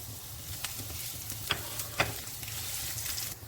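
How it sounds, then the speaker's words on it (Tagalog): Garlic sautés in a little hot oil in a wok with an even, hissing sizzle, broken by a few light taps and scrapes of a utensil, close and quiet. "Pinainit, lagyan natin ng konting mantika. Igisa po natin ang bawang."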